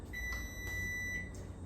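An electric pressure canner for pickles gives a few short, faint electronic beeps, spaced unevenly over a low background hum.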